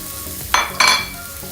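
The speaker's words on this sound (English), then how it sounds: "and just saute it nicely like a golden brown" Garlic and onion sautéing in a pan, steady low frying hiss with two short bright bursts of sizzle and stirring in the middle, close and alone without talk.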